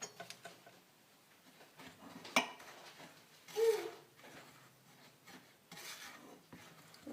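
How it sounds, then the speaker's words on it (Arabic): Dry ingredients for harcha, semolina with a little yeast, get stirred together in a bowl, soft scraping and light clinks with occasional louder knocks, quiet and close. "غنخلطوا المواد الجافه مزيان"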